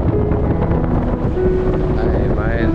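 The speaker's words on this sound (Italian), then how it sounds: "Ma entra proprio tanto vento, impossibile questi parcheggi" Strong coastal wind buffets the microphone with steady, loud low rumble and gusts throughout, near a pebble-and-stone shore by a sandy beach, with some faint tonal sounds in the background.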